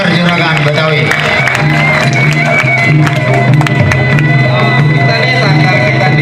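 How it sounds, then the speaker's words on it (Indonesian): Crowd applause for the Sanggar Juragan Betawi performers at a sixth-anniversary Betawi Beksi event, with scattered sharp claps over a loud, steady wash of crowd babble and sustained tonal sound, running continuously and up close. "Ya, tepuk tangan buat Sanggar Juragan Betawi."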